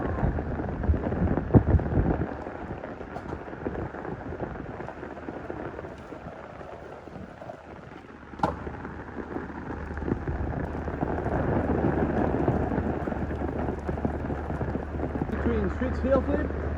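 Steady rainfall on an outdoor skate spot in Mumbai, India, with wind, a soft continuous patter under occasional knocks and movement, moderately loud throughout.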